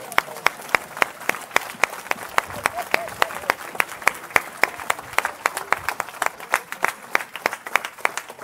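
A church congregation claps rhythmically in praise of the Lord, sharp steady claps in a regular beat over a murmur of voices and cheering, moderately close in a reverberant hall.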